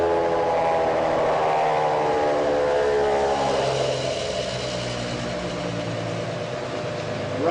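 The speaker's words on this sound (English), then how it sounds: "we're running the system on the induction motor alone" An induction motor drives a generator rig on its own, giving a loud, steady mechanical whine and hum with shifting tonal bands that ease slightly as the system slows.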